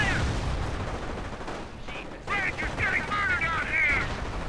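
Battle noise from the OMGmod game with an LMG 42 machine gun firing, a rattling mix of distant gunfire and overlapping shots, with a voice talking over the later part.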